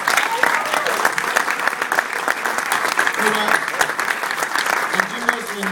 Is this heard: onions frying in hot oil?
no